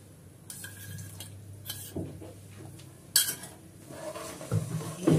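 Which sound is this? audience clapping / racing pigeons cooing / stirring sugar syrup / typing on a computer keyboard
stirring sugar syrup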